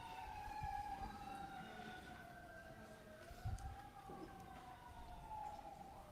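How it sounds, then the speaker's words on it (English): Emergency siren wails steadily outside a courtroom during a murder trial, its pitch sliding and overlapping as vehicles pass, fairly distant and continuous for several seconds. "hold on for the sirens"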